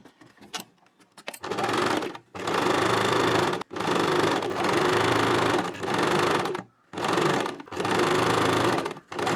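A sewing machine runs in several long bursts, stitching lace onto a blouse along the upper side. The motor whirs loud and steady in each run, with short pauses between runs and a few light clicks at the start.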